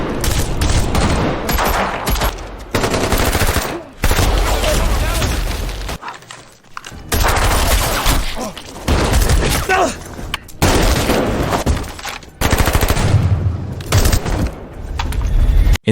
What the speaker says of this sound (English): a gun battle ensued between them